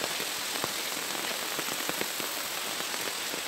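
Heavy rain pours down in a mountain setting, a steady dense hiss with scattered sharper drops striking nearby surfaces, loud and continuous throughout with no voices.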